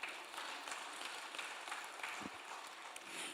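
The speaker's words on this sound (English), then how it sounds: "You can give a wee clap in that moment." A church congregation gives a light round of clapping for the worship band, faint and scattered, with occasional individual claps standing out from the wash.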